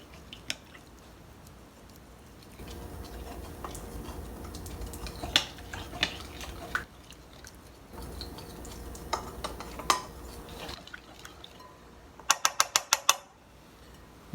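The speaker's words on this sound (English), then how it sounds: "And I'll give this a nice mix." Roasted garlic baba ganoush being mixed: soft, irregular scraping and squishing of utensil against bowl, with a quick burst of sharp metallic clinks near the end.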